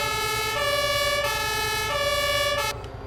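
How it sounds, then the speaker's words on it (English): A fire truck siren on a MAN TGS truck in Farming Simulator 22 wails steadily in a repeating two-tone cycle, loud and close, then cuts off abruptly near the end. "has a siren because, well, we have the fire truck configuration."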